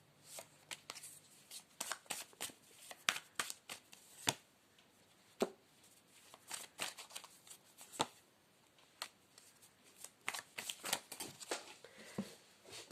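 Close, crisp riffling of playing cards being shuffled in repeated bursts, with short pauses between, and no voices.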